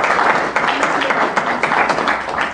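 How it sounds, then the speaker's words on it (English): A crowd at a conference claps steadily for the event videographer, a dense, loud wash of many hands that runs unbroken through the whole stretch. "So I think we need to give him a round of applause, don't you?"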